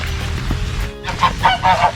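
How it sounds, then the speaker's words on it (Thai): A fighting rooster, a gamecock with a sore leg, gives loud raspy honking calls in a few bursts close by, over a noisy background. "เป็นไก่ชนด้วย"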